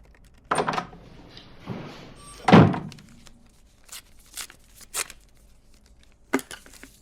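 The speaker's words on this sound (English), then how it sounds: "Shut the door on your way out." An interior door is pushed shut with one solid thunk, followed by a few fainter knocks and rustles nearby.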